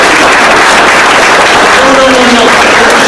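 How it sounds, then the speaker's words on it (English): A large audience at a memorial celebration of life in Watsonville, California, breaks into dense, loud applause that fills the room without letup. "That deserves a round of applause."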